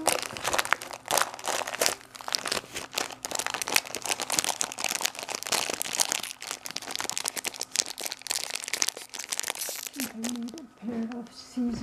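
Crinkly plastic tea packaging crackles and rustles steadily for several seconds as it is opened, close up, with a voice briefly at the end.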